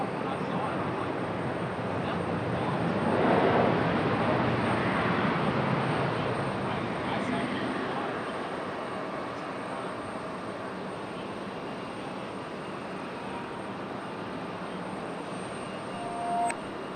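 A FedEx heavy jet on approach to land at Raleigh-Durham airport, its engine roar swelling broadly then fading into a steady distant rumble, with people talking faintly underneath.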